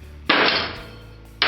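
A hammer strikes a tungsten welding electrode to snap off its contaminated tip. One sharp, loud impact lands partway through and rings out as it fades, and a second hit starts right at the end.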